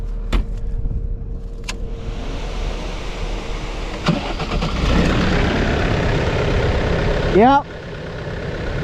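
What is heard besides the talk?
skid loader engine starting and running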